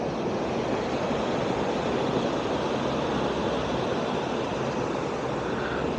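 Water pours from a leaking dam in a steady, dense rushing roar that stays constant and fairly loud throughout, with no voices.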